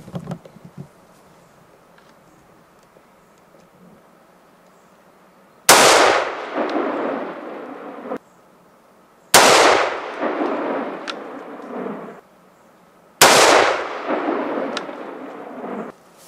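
Three powerful .308 Win rifle shots are fired with homemade hunting ammunition, spaced a few seconds apart. Each blast is loud and close and rolls into a long, fading echo outdoors, with no voices.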